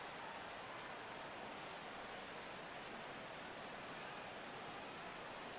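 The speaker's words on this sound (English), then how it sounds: "The rain, as we've mentioned, coming down fairly steadily here at game time." Steady rain falls across a ballpark during a baseball game in the video game MLB The Show 16, Pirates versus Reds, a dense, even hiss that holds throughout without a break.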